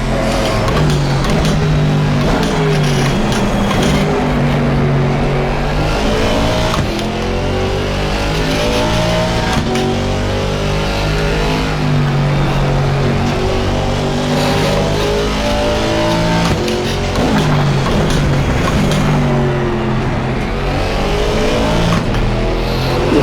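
A racing car engine in Assetto Corsa Competizione roars loudly and continuously, its pitch climbing and dropping as the throttle is opened through gears, with no pauses.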